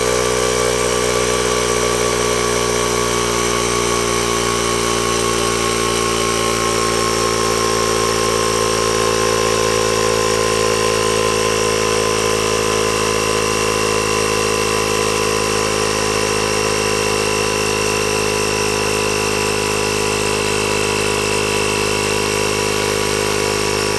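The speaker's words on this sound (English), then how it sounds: "We're going to see how long it takes to inflate a bike tire." Kobalt 12V/120V dual-power tire inflator running steadily to pump up a bike tire, a loud, constant motor drone with a fixed buzzing pitch that holds unchanged throughout, with no talking.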